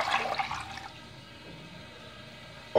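One and a half litres of cold water pours into a soup pot, a rushing splash at first that settles into a quieter trickle before a brief bump at the end, heard close up and without speech.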